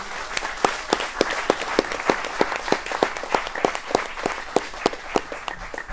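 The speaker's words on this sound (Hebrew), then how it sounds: "וכל הכבוד להם והמחיאות כפיים צריכים להיות להם." Applause from the audience at a youth music competition: steady, evenly spaced claps, moderately close and fairly sparse, with no speech over them.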